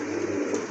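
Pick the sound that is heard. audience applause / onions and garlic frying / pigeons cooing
pigeons cooing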